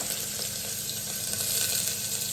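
Onion sizzles in hot oil at the start of cooking masala rice, a continuous soft frying hiss with light crackles, fairly quiet and steady throughout.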